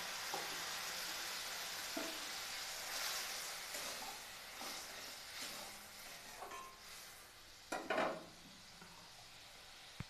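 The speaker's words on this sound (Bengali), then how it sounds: "আমি গ্রেভিটা যেহেতু মাখা মাখা রাখবো, সেহেতু বেশি জল ব্যবহার করবো না, অল্প করে জল দেবো" Water splashes into fried spice paste in a pan for a Bengali bhola fish jhal. A steady frying hiss runs under light stirring scrapes, and a sharp, louder sizzle bursts out near the end.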